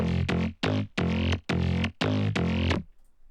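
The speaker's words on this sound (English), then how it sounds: "like Roland 303-esque kind of sound" A gritty, resonant acid synth bass in the style of a Roland 303 plays a short pattern of about seven notes, buzzy and squelchy, alone, before a brief fade.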